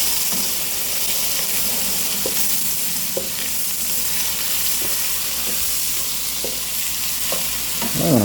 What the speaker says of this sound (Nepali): टमाटर हालेर एकदम मजाले पाक्नु दिनुपर्ने रहेछ